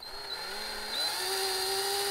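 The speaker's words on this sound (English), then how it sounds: "So I happen to have a reamer on a drill, very simple reamer on a drill for the 5/16 size" A drill-mounted 5/16 reamer turning in a Muncie four-speed transmission case, a steady close whine whose pitch climbs partway through as the motor speeds up.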